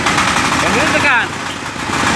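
A Matsumoto 10 hp mini tractor engine, model MTM 1380 DE with an electric starter, runs with a loud, steady close-up rumble, and someone talks over it.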